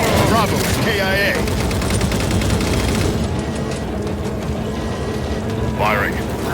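Rapid gunfire from the Halo 4 video game rattles loudly and continuously across the whole stretch, with game radio voices and effects talking over it.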